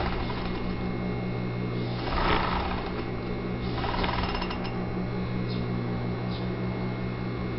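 A sewing machine stitches a jeans hem with a steady mechanical rattle and ratcheting clatter, running continuously up close, with a slight vibrating judder and a few brief louder bursts.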